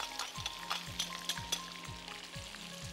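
Two medium onions hitting hot oil in a pan for a chicken aloo curry, giving a steady close sizzle and crackle, with a few soft stirring knocks and no talk.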